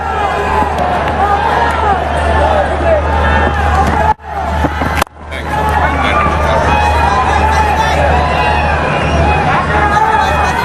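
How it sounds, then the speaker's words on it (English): A T20 cricket stadium crowd, with the Ballari Tuskers batting, keeps up a loud, continuous roar and babble of cheering, broken by two brief drop-outs midway before the din resumes at full strength. "every time they hit a good shot, the crowd's starting to get involved"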